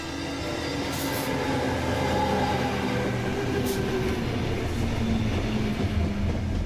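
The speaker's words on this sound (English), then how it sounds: "She steps off the train at around 10 p.m." A late-night passenger train runs steadily on rails through Sydney's outer western suburbs, a continuous low rumble of wheels and carriages with faint clicks, loud and close with no talk.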